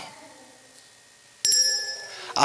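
A small bell rung inside a church during a Sunday service sounds out clearly with a bright, sustained metallic ring. A second quick strike follows near the end, in an otherwise quiet room.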